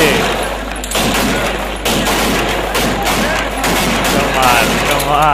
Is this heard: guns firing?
yes